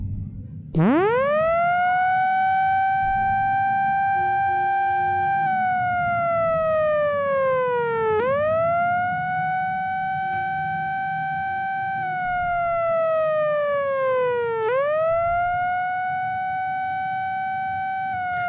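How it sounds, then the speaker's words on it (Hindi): A loud mosque amplifier siren wails, rising sharply, holding a steady tone, then dipping and climbing again in repeated long cycles, with no other sounds. "वो इस सायरन की आवाज़ से ज़रूर उठ जाएंगे"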